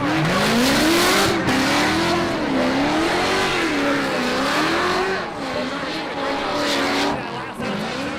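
Race cars battling wheel to wheel at Raceway Park, a drift event, engines revving and wavering loudly with tire squeal and skidding throughout, a commentator talking over the din.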